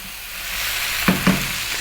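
Vegetables stir-frying on high heat in a sweet and sour vegan dish, a steady hissing sizzle with two quick scraping stirs of the utensil near the end, close up and with no speech.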